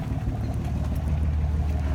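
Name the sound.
John Deere 544J wheel loader engine running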